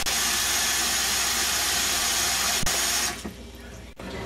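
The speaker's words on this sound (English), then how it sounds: "Fill the roasting pan with some water." Tap water pours steadily and loudly into a roasting pan for a curry chicken, a continuous rushing stream that stops near the end, leaving a faint drip and low room noise.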